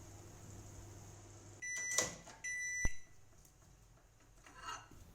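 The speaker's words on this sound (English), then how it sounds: "Microwave for just 1 minute at the beginning." A microwave oven drying orange peels hums steadily, then falls quiet before a few electronic beeps and a sharp click like the door opening, in a quiet kitchen.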